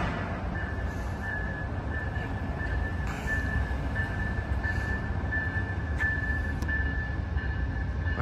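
Amtrak Coast Starlight train #14, led by ALC-42 Heritage Unit 301, rolls into a station with a steady heavy rumble and a thin sustained metallic tone above it, loud and continuous throughout with no voices.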